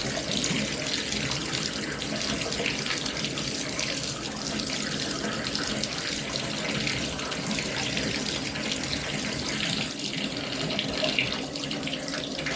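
Water runs steadily from a Delta 1700 Series shower faucet in a continuous, full hiss that stays even throughout, with no voices.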